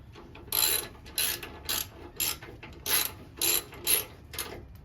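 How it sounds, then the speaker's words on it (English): A ratchet wrench tightens bolts on the front brake of a 2001 Kawasaki Vulcan Nomad 1500cc motorcycle, giving about eight short, close clicking bursts in a steady rhythm with quiet gaps between. "Just going to quickly tighten this up"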